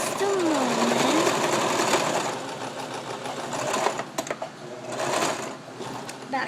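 Sewing machine stitching across a ruffled fabric flower for a pillow, a steady close whirring drone with faint talk mixed in and a few brief clicks and stops near the end.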